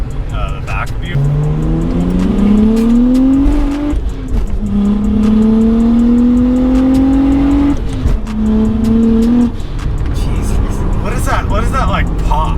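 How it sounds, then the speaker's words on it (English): A 700hp BMW N54 single-turbo car accelerates hard through several gears, its loud engine note climbing in repeated sweeps with brief drops at each shift and a grabbing clutch, heard from inside with voices talking over it. "That's just the clutch grabbing."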